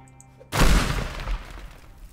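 An explosion in the video game Teardown: a sudden heavy boom after a quiet moment, followed by rumbling and debris crashing that slowly fades.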